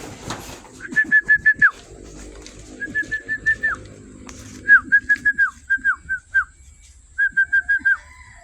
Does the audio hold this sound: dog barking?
no